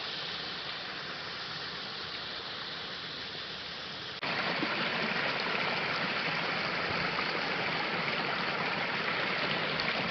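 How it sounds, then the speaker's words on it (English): A small creek runs toward a little waterfall on the Ozark Highlands Trail, giving a steady, broad rush of flowing water that grows somewhat louder partway through, with no voices. "the creek that feeds that little waterfall is right here"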